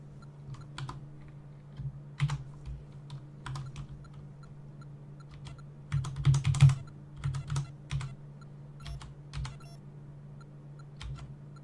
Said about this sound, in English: Got this flipped so that Z and X are controlling Mario